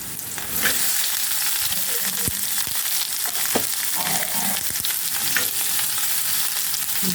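Onions frying in a pan for a dantu soppu bassaru, a loud continuous close-up sizzle with occasional scraping and clattering of a spatula stirring.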